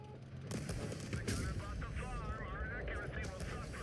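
Video game gunfire from newly updated weapon sounds in update 9.2, heard as a dense burst of shots and booming reports over a sustained roar for a few seconds, with voices talking over it.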